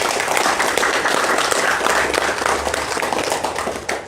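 A crowd applauds continuously, a dense and steady wash of clapping that carries on for several seconds and begins to taper at the end.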